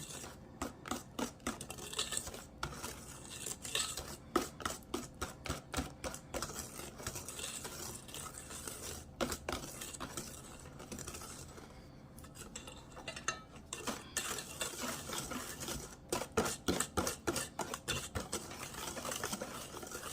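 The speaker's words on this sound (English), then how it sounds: "So all you have to do is use a whisk, unless you want to use the mixer." A whisk beating chess pie filling with evaporated milk in a bowl, a quick rapid clatter of wire against the bowl that runs almost continuously, close up and moderately quiet, with no talking.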